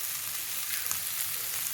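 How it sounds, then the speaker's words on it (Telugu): Bitter gourd frying in a pan with oil, a steady close crackling sizzle with faint stirring scrapes, no voices. "మధ్యలో అలా కలుపుతూ ఉండి అలా వేయించుకోవాలి."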